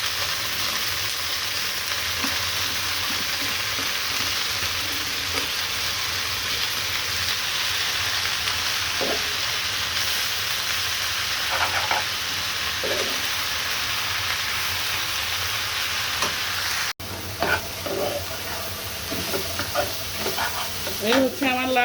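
Red amaranth greens with lightly fried onion and salt sizzle loudly in a wok while being stirred, a continuous rain-like hiss with scraping strokes and scattered clicks and taps toward the end; no speech.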